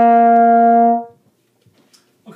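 A single sustained trombone note from the third trombone part of a piece, held steady and loud for about a second before fading out, followed by faint room noise and small bumps.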